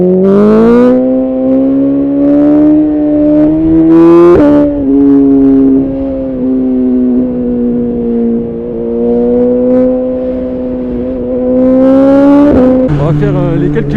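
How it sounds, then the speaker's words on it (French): A 2020 BMW S1000RR M motorcycle with an Akrapovic exhaust revs loudly and close, holding steady high-pitched engine notes with rises and dips against the rev limiter, while someone talks over it. "Écoutez le rupteur. Crache des flammes et tout."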